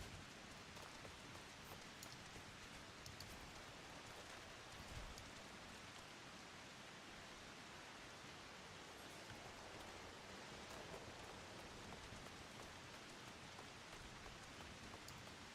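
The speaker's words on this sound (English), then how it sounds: "I love the sound of rain" Steady rain falls in the video game Final Fantasy XIV Dawntrail, a soft, continuous hiss of drops that stays even and fairly faint throughout with no talk over it.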